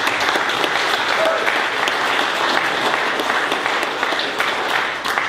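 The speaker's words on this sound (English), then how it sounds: "Let's give them a round of applause." An audience at a community event gives a steady, full round of applause, a dense wash of many hands clapping at once that holds evenly throughout with no talking over it.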